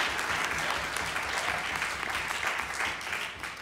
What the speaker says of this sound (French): Oui, on peut les applaudir.